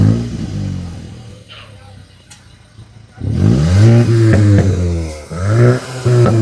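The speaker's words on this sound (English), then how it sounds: "Lower down in the bumper, you'll find a pair of real dual exhausts, and this is what they sound like." A VW Golf GTI hot hatch revs through its real dual exhausts, first a low idle burble, then from the midpoint several loud, close throttle blips that rise and fall.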